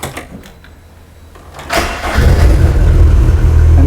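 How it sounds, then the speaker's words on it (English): A Lotus Elise engine cranks briefly after a quiet stretch, then catches and settles into a loud, steady idle that holds to the end. "let's crank up the engine, and it should start very easily"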